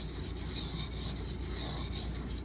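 A knife blade rasps steadily back and forth over an aluminum oxide whetstone, a close, continuous gritty scraping in even, rhythmic strokes with no talking.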